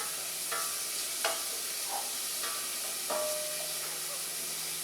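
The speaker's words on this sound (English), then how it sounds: "Make sure we got this all nice and soft." Chiles fry in a heavy-bottomed pan for mole sauce, giving a constant hissing sizzle with a few short stirring scrapes, while someone talks over it.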